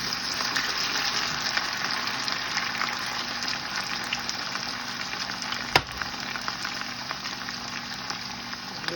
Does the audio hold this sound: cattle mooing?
no